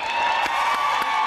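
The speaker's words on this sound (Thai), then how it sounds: "ขอเสียงปรบมือให้ทั้งคู่อีกครั้งครับ" An audience applauds both guests on a Thai late-night talk show, a steady wash of clapping and crowd cheer that stays close and loud for the whole moment, with no voices on top.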